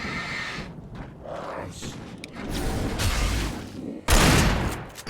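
Gunfire rings out in Alan Wake Remastered, a loud burst that follows rumbling game ambience and blares with a final close, booming volley.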